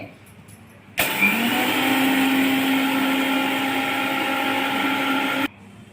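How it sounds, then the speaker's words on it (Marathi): A kitchen mixer grinder whirs loudly as it grinds mustard seeds and cumin, starting abruptly, holding a steady high whine for several seconds, then cutting off sharply into near silence. "आता मोहरी आणि जिरे बारीक करून घेणे,"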